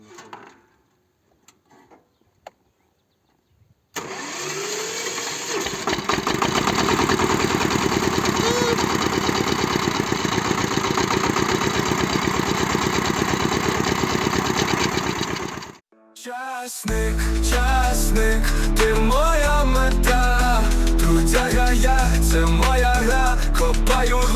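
A tractor engine starts and runs loudly at a steady idle while preparing to plough up garlic in clay soil, then cuts off abruptly and music follows; there is faint activity beforehand.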